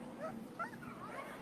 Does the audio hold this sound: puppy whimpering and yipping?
yes